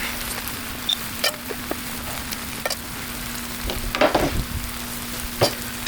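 Mexican pizza tortillas sizzling on a griddle: a steady frying hiss with scattered sharp pops and crackles, close and moderately loud, without speech.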